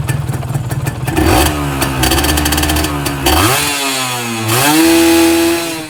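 A Yamaha 125Z two-stroke motorcycle engine revs loudly and up close, the throttle twisted a quarter so the pitch climbs and holds, then drops and rises again in a rough mechanical drone.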